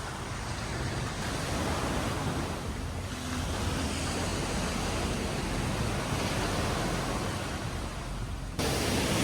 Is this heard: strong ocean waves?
yes